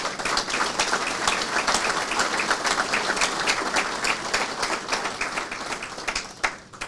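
An audience applauds at a September 11 remembrance and recognition ceremony held by a transit workers' union local, with sustained, even clapping from a sizable crowd that carries on for several seconds.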